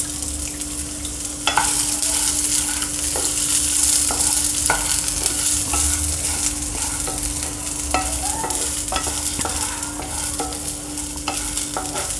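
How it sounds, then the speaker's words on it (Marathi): Okra seeds roast in a hot pan, giving a steady dry sizzle with repeated scraping and stirring strokes throughout. "आपल्याला ही भेंडीची बी भाजून घ्यायची, चांगली भाजायची खमंग"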